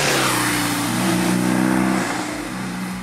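A BMW R nineT Pure motorcycle's boxer engine, in its A2-restricted 47.5 hp version with a somewhat muffled stock exhaust, revs steadily up and holds, then eases off, a close, continuous throaty drone heard alone.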